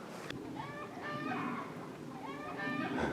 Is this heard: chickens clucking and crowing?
yes